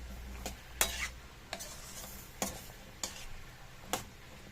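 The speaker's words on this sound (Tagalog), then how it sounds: "ito po ay hahaluin natin hanggang sa mag-combine na po dito sa ating karne" A spoon scrapes repeatedly as cubed squash is stirred with meat in a pan for adobong kalabasa. The strokes land roughly every second over a faint sizzle of frying.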